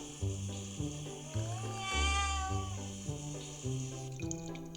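A virtual cat is bathed in a bathtub in a pet video game, with running tap water, a meow and a cheerful repeating game music loop playing steadily throughout.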